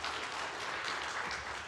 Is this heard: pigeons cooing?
no